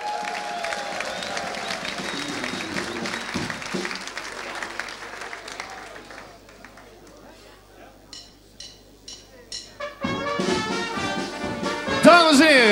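Applause for a band at the Bosuil Sauwelavond 2016 evening, with a crowd clapping amid music and a host's voice over a band; the clapping swells loud near the end.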